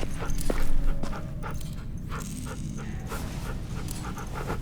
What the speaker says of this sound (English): She's my dog now.